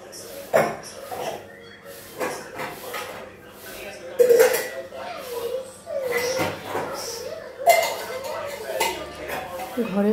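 Scrubbed dishes and pots are rinsed and handled in a home kitchen. Steel utensils clatter and clink repeatedly at close range, with running water and faint voices in the background.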